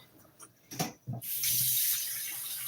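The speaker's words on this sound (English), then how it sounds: "So we get some water here." A kitchen tap gushes water into a sink for washing vegetables for oha soup, a steady close rush that starts after a few soft clinks and knocks.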